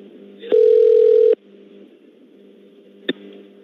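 A phone line during repeated prank calls to a scam support number gives a loud, steady dial tone of under a second, then a faint hum and a single short click.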